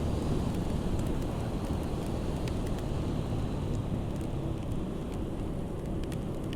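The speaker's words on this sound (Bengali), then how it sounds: "বৃষ্টি একটু একটু বাড়ছে" Steady rain falls with a constant broadband hiss, occasional sharper drops standing out; no one speaks.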